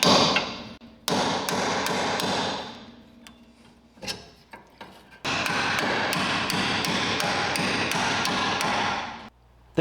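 Repeated hammer blows banging on a seized rubber bushing in the front suspension arm of a Datsun 520 pickup, loud sharp metallic strikes in quick bursts with brief pauses between runs, no talking.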